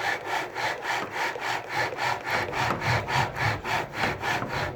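Bow drill spindle spinning back and forth in a wooden socket while making a friction fire, a steady rhythmic rasping saw-like stroke repeating about twice per second, close and clear with no talking.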